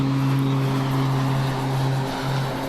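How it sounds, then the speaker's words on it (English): A compact TBM turboprop airplane in flight, its engine giving a steady, loud, even drone with a strong tonal hum and no talk over it. "This TBM really is very good. It's surprisingly easy to fly for such a compact airplane."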